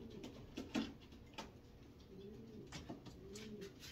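Soft, low coos from a racing pigeon in a breeding loft repeat a few times, fairly quiet, against faint background ticking and rustle.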